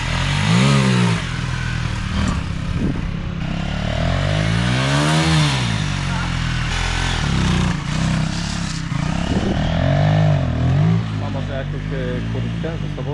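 A motorcycle engine revs hard during wheelie training, its pitch climbing and falling in several repeated surges, loud and close.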